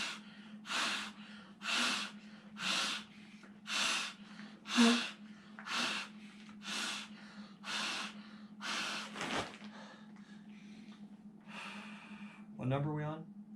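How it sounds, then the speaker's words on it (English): Someone inflates a Big Agnes sleeping pad by mouth, with about ten strong, evenly spaced puffs of breath blown into the valve, close and loud, followed by brief fumbling noises. "Let's see how many breaths it takes to blow this bad boy up."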